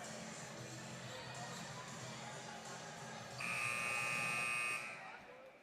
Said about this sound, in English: And so the buzzer goes off.